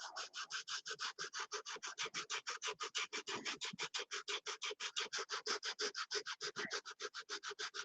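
Steady, rhythmic hand sanding up close, brisk back-and-forth rasping strokes repeating evenly about five per second, with no voices.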